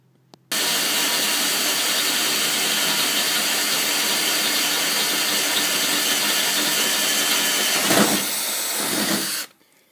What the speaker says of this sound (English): Shouldn't take that long to drill through a floorboard.